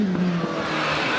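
Gould GR59J hillclimb race car, number 166, launching off the start line at a British Championship hillclimb at Harewood, its engine note loud and steady with a rising tone throughout.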